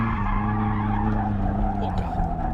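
A car drifts with tires skidding and squealing in a loud, continuous smear over a droning engine, heard up close throughout.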